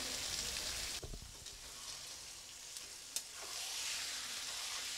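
Mushrooms in a pan sizzle after a mix of tomato, soy and chilli sauce goes in, a soft steady frying hiss broken by a few sharp knocks and scrapes of stirring, quiet overall and with no voices.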